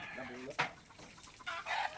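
A chicken clucks and squawks in a few short, close bursts over a quiet background.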